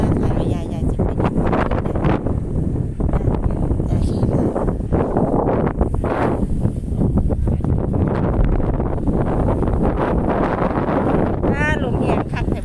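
Strong wind blows at a freshwater lake beside a hut, a loud, constant roar buffeting the microphone throughout. A person talks over it.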